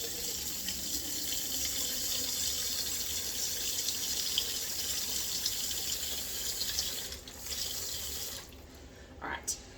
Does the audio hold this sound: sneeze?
no